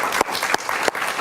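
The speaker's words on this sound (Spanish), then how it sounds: "Un aplauso para mi querido Luis." Studio audience applause on a Spanish-language television talk show, a short burst of dense clapping with a few sharper claps standing out, loud and close, with no talk over it.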